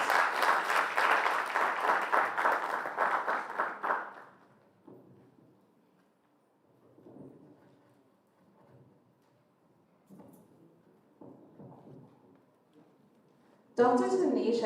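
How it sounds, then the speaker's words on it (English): An audience at a research day opening plenary gives a round of applause for an arriving speaker, loud and dense for about four seconds before fading into a quiet room with faint scattered knocks. "She deserves a round of applause as she comes."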